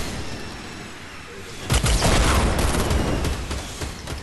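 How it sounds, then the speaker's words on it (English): Rockets fired in a Fortnite squad match: a burst of loud booming blasts and crackling detonations starting partway through, continuing in rough repeated bangs over a low game rumble. "They're shooting rockets."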